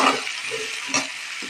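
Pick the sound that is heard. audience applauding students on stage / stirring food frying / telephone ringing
stirring food frying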